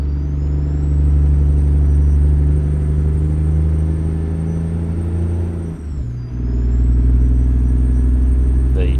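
In American Truck Simulator, a heavy diesel truck engine drones loudly and steadily with a high turbo whine, briefly dipping as it shifts, then pulling again.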